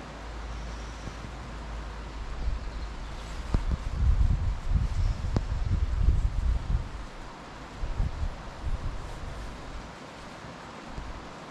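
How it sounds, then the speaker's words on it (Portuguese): Cold wind blows hard across an outdoor microphone, making a steady low roar with gusty buffeting and soft rustling throughout. No one speaks. "que vento gelado"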